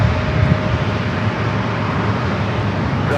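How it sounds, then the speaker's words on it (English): Gulfstream business jet taking off at a busy airport, a loud steady broadband engine roar that holds constant throughout, heard from a distance. "Gulfstream up next for takeoff."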